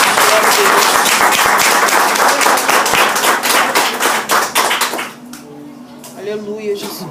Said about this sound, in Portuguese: Quem pode aplaudir a palavra do soberano nessa noite?